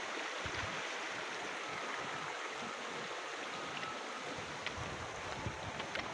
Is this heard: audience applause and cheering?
no